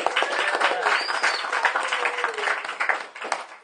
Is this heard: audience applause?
yes